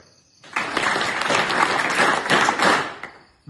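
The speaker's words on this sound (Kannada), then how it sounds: "ಅವಳಿಗೆ ಒಂದು ದೊಡ್ಡ ಗೌರವಪೂರ್ವಕವಾದ ಚಪ್ಪಾಳೆ." Students at an SSLC exam orientation session give a hearty round of applause in honour of a classmate. The clapping swells quickly, holds for about two and a half seconds and then fades.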